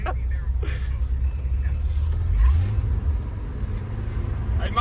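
An old Ford F-100 truck creeps along in reverse, its engine a steady low rumble throughout with a brief rising surge midway, while people talk over it.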